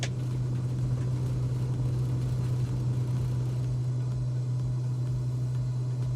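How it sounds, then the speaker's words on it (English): Aircraft engine in a flight simulator game, a steady low droning hum with a constant tone and even loudness throughout, close and continuous with no talk over it. "Now we're going to turn up the engine sound a little bit."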